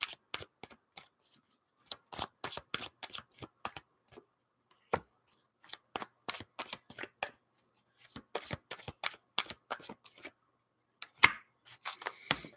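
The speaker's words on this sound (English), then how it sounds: "2 more cards, please, for Triple G." Tarot cards are shuffled and drawn during a live reading, giving a run of crisp, close riffling snaps and flicks in irregular bursts with short pauses between them, and no voices over them.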